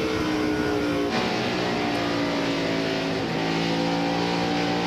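NASCAR stock cars from the 2002 Subway 400 circling the track under caution, a steady droning roar of several engines at moderate distance with no break throughout.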